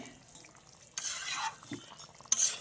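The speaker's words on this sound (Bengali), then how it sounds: "ঢাকা দিয়ে রেখেছিলাম বলে কেমন ফুটছে" Rohu fish curry with taro and new potatoes bubbles in a covered pan, with quiet simmering, then brief bursts of hissing and a spoon or lid clink close by.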